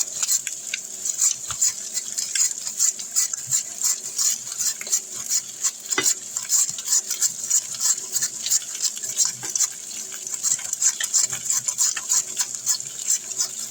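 Potatoes rubbed over the coarse home-style side of a double grater, giving a close, steady run of quick rasping strokes that continues without pause and without any talk.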